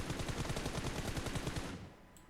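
Rapid automatic gunfire in PUBG Mobile, a dense fast burst of shots lasting under two seconds before cutting off abruptly, loud and close with no talk over it.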